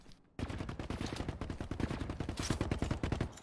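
Gunfire in the shooter game The Cycle: Frontier, a dense rapid burst of automatic shots rattling continuously after a brief quiet start, close and loud.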